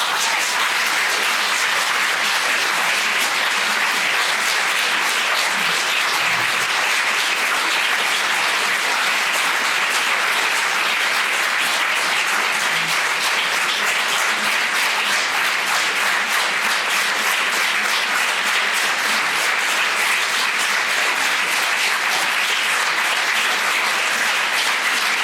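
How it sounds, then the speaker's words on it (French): Loud, sustained audience applause fills the hall after a live stage show, a dense wash of many hands clapping continuously without pause. "je vous demande d'applaudir très fort ce spectacle lui est dédié."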